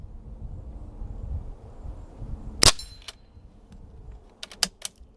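Low rumbling background, then a sharp crack from a Ruger 10/22 .177 pellet rifle followed by several quick metallic pings and ticks on a 3-inch metal spinner at 20 yards, the later ones coming in a rapid little cluster.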